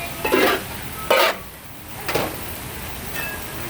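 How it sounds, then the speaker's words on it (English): Cabbage and noodles tossed in a pan at a farmer's market cooking demo, three distinct scraping, sizzling tosses separated by pauses, close and clear without speech. "Get the cabbage in there. Get that another toss like so."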